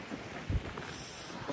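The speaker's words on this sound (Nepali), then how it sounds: "हावा छ" Wind on the Big Sur coast buffets the microphone in low, uneven gusts, with a brief louder thump in the middle. The whole passage lasts under two seconds and has no speech.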